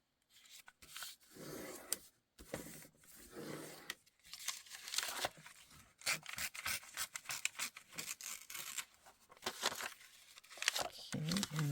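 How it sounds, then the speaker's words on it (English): A sheet of paper is folded in half for a junk journal, giving close, soft crinkling, rubbing and scraping sounds in uneven bursts, with a person talking quietly over it. "I'll do one more sheet. Fold it in half."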